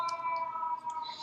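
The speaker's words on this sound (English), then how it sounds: "I do apologize for the sirens in the background." Emergency sirens drift in through an open window in New York City, a steady tonal wail at moderate distance holding through the short stretch with no one speaking.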